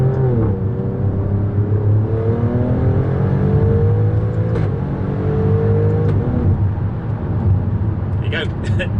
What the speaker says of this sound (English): you'll be able to kind of hear just how amazing this car sounds when you get some decent road to drive it on.